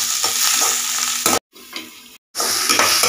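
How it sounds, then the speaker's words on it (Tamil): Tomatoes sautéing in a hot pan give a loud, steady sizzle with scraping stirs, broken by two short gaps of near silence before the frying sound returns. "இப்போ தக்காளி சேர்த்துடலாம்."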